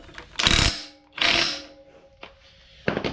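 A wrench tightens the rear end bolts on a 1999 GMC Yukon truck. A few close, separate metallic ratcheting bursts are spaced by short pauses, loud and alone.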